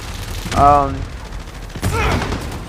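Gunfire in Call of Duty Modern Warfare, two short loud bursts of shots about a second apart with ringing tails, a voice briefly audible.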